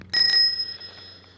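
An original Electro bell on a cruiser bicycle gives one bright, close ring that lingers as a fading metallic tone.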